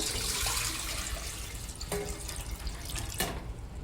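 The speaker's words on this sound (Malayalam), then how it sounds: "ഇഡ്ഡലിക്കുട്ടം വെച്ചിട്ടുണ്ട് അതിലേക്ക് ആവശ്യമായ വെള്ളം ഒഴിച്ചു കൊടുക്കുക" Water pours steadily into a metal idli steamer pot, a continuous close splashing stream with a couple of small clinks.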